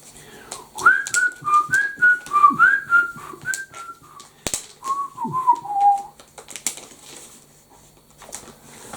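A person whistles a short, wavering tune of sliding notes with a brief pause midway, close and fairly clear, with faint handling noises around it and no talking.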